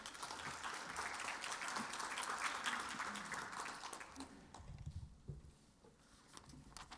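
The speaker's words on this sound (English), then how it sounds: "Round of applause for Emily, everyone." A crowd applauds with dense, steady clapping that gradually thins and fades toward the end.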